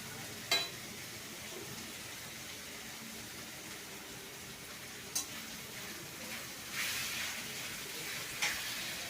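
Chopped cluster beans and green chillies sizzle in a hot pan, a soft steady frying hiss with a few brief clinks of a utensil stirring.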